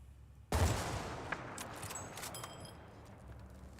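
A single sharp, loud shot from an M95 sniper rifle in Battlefield Bad Company 2, followed by a long rolling echo and faint metallic clinks as it fades.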